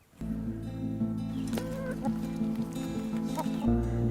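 About 28 chickens in a mobile chicken coop cluck and murmur softly over a steady low hum, with a few sharper calls breaking through near the end.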